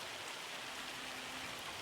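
Steady rain pours down in a logging simulation game, an even hiss of drops on surfaces holding unbroken for the whole stretch at a moderate, close level with no other sounds.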